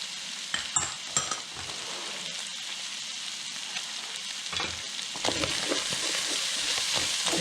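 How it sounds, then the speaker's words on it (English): Chili powder, Mexican paprika, cumin and coriander stirred in a frying pan, a soft ongoing sizzle with scattered scrapes and taps of the spoon, growing busier toward the end. "Give this a good stirring"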